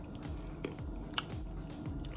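Biting into a keto egg roll made from leftover egg roll in a bowl: close, moist chewing with a few crisp crunches, steady and fairly quiet, with no talk.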